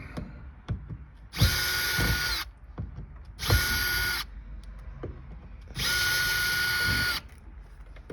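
Power drill backing screws out of the upholstery on a 1949 Ford; three loud, steady whirring bursts of a second or so each, separated by faint clicks and handling noise, with no talk.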